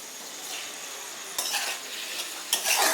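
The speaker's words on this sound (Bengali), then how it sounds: "মশলা আমাকে কষানো হয়ে গেছে" Ground spice masala with a little water is stirred and cooked down in a pan for a prawn and potato curry, with a soft sizzle and a few bursts of scraping and spatula clatter close by.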